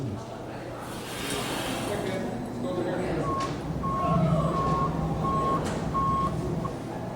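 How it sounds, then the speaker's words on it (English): Reversing beeps from a truck backing up at a construction site, a repeated electronic tone in evenly spaced pulses under steady outdoor rumble and engine noise. "That was the truck backing up."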